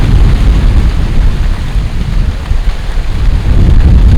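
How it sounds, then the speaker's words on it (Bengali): Heavy wind roars against the microphone throughout, a dense, rumbling buffeting with no other clear sounds, during an afternoon storm with rain. "এখানে বাতাস প্রচুর হচ্ছে এবং বৃষ্টি হচ্ছে"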